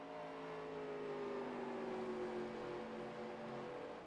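Race car engine droning as the driver feathers the throttle down the back straightaway, a steady, slightly wavering tone that glides gently in pitch, heard at a distance and fairly faint with no talking.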